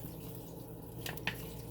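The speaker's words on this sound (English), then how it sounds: "So what I'm going to do is I'm going to pour the water right there in the center." Water poured into the center of a potted rosemary plant indoors gives a quiet, faint scene broken by a couple of brief, soft splashes and drips near the end.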